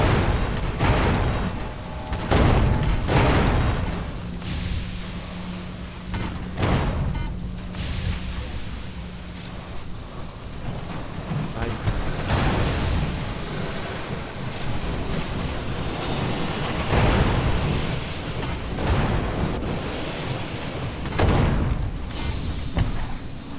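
Gunfire from a newly fitted ship's gun in the video game Sunless Skies: a series of heavy booming bursts at irregular intervals, each loud and rumbling, with a low ambient drone running between the shots.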